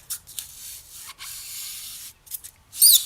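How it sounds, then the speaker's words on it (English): A utility knife slices excess material off a diorama accent piece with a concave curve, giving short dry scraping and rubbing strokes close by, in a few separate bursts with quiet gaps between them. "I'm just going to go ahead and slice some of this material off"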